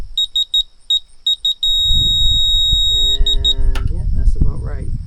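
A construction laser receiver beeping while an excavator digs a hole for a garage shed foundation, chirping in quick repeated bursts before a low engine rumble takes over under someone talking.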